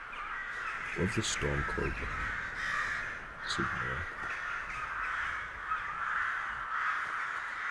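Crows cawing loudly in Skyrim, with a run of harsh, repeated caws in close bursts that come and go over a steady ambient hiss, while someone talks over them.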